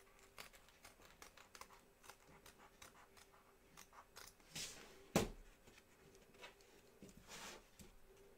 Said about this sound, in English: carefully trim around the edge of your parts, taking care not to cut the stitches